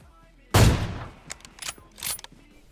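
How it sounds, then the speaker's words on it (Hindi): A single sharp AWM sniper rifle shot in PUBG Mobile, loud and close, followed by mechanical bolt-action clicks and rattles. "और देखो AWM का शॉट"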